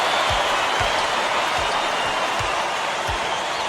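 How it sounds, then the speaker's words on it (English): A dense, steady crowd roar fills a college basketball arena in College Hoops 2K8, Baylor against K-State, with a ball thumping on the court at a regular rhythm beneath it. "Listen to the crowd, Vern"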